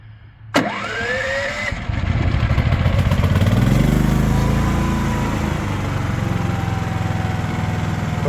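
A Predator 11500 gasoline generator cranks with an electric starter, catches after about a second, and settles into a loud, steady running drone nearby, with the engine pitch rising briefly before it levels off.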